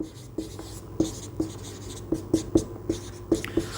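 Writing on a board during a physics lecture on electrostatics and Gauss's law: short, close scratchy strokes in an uneven rhythm, about a dozen taps and scrapes.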